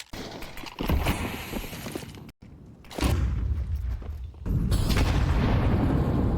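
A frag grenade blasts during a professional Counter-Strike match at a major tournament, giving heavy booming bursts with low thuds, one around the middle and a sustained loud rumble near the end amid in-game noise.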